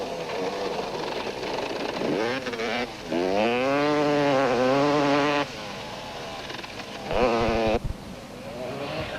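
KTM motocross motorcycle racing in a 1991 500cc championship event, its engine screaming at full throttle with rising and falling pitch as gears change, loud and near, with other bikes and faint crowd noise around.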